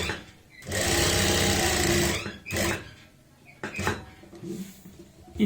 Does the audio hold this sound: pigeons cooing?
no